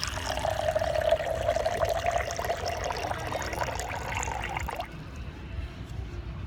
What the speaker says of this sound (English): So you pour the water in here.